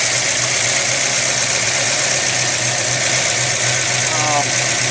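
A freshly rebuilt 1974 Ford 302 V8 engine idles steadily with a low, even rumble and constant hum throughout.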